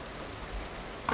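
Steady rain falling in the video game Vintage Story, a soft, even hiss of drops on surfaces filling the whole stretch at low level, with a brief slightly louder patter near the end.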